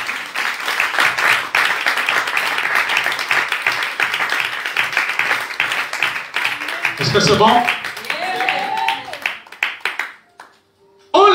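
A French-speaking church congregation claps and cheers in praise of Jesus, a dense, steady wave of applause lasting several seconds before thinning out, with voices shouting over it and a brief spoken question near the end.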